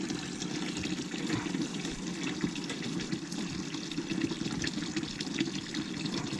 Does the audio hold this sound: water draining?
yes